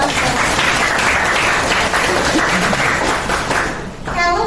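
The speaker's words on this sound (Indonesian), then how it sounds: "Kita beri tepuk tangan aplaus untuk Axel" Applause from a school class, a dense roomful of clapping that stays steady and loud for about four seconds before thinning out at the end.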